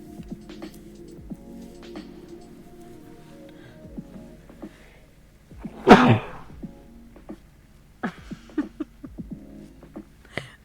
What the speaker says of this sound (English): There's the sneeze I tried to avoid last time.